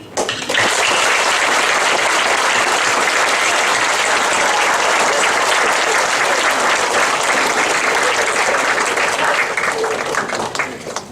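A large audience at a university gives Hillary Clinton, Secretary of State, a loud, sustained round of applause that starts almost at once and stays steady and dense throughout without fading.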